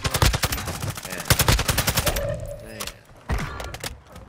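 Rapid bursts of automatic gunfire in a video game battle royale match on Ashika Island, loud and close, with quick stuttering rounds that break into gaps and single shots near the end.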